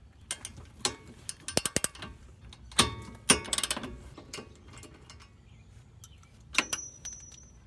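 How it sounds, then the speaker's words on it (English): Ratcheting clicks from a socket wrench breaking loose the caliper bolts on a Nissan S13 during an R32 big brake kit swap, quick bursts of ticking separated by short pauses with metallic clunks, close and fairly quiet. "Break the two bolts holding on the caliper."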